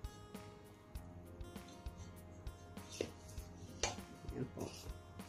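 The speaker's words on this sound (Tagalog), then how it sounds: "I-mix natin yung oil hanggang sa ma-mix na maigi." Oil being stirred into sugar and cacao in a bowl for chocolate crinkle dough gives scattered utensil scrapes and clinks against the bowl, fairly quiet and close, with a few louder knocks near the end.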